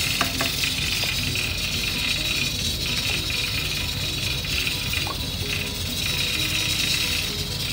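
Chicken haleem cooked with milk bubbles and sizzles steadily in a pot while a spoon stirs it, with occasional soft scrapes against the pot over a constant close hiss.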